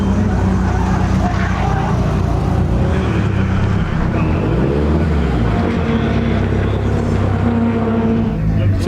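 A race car on the Brands Hatch circuit drones steadily close by, with a loud continuous engine note and heavy wind buffeting, and a brief rising and falling whine partway through.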